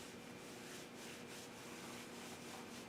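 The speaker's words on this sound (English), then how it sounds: "And rub your legs." Hands rub briskly up and down the legs during a mindfulness session, a steady, close, continuous swishing friction lasting a few seconds with no talking.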